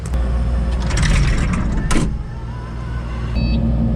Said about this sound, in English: I'm gonna start moving the skid steer a little bit now to hopefully get the hydraulics warmed up